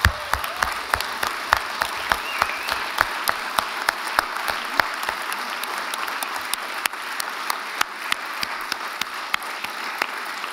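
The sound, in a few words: audience applause after a speech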